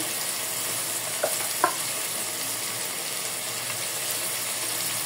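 Onion paste fries in a hot pan, hissing with a constant close sizzle, marked by a couple of brief clinks from the utensil early on.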